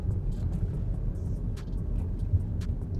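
An Audi A3 hatchback drives at a calm city pace, with a steady low engine and road rumble heard from inside the cabin and faint scattered clicks.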